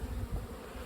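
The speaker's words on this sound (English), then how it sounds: "There's a lot of bees in there." Honey bees humming inside a horizontal Flow Hive during an inspection, a dense, steady low buzz that fills the short moment without pause and without any talk.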